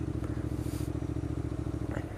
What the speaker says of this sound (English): It's not all that easy going like 2 miles an hour on a motorcycle